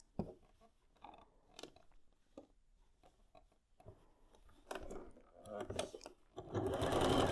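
A sewing machine stitches the seam of a quilt bowtie block. Short bursts of stitching and fabric handling build into a steady, louder run of stitching at the end, with a person speaking over it.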